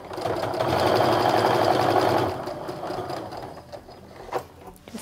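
A sewing machine stitches a quilt seam on a Maple Leaf Log Cabin fall quilt, running in a fast steady whir for about two seconds, then slowing to softer, uneven clicks and ticks.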